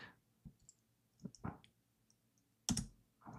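A few sparse, quiet keystrokes on a computer keyboard, isolated clicks with pauses between them in an otherwise still room.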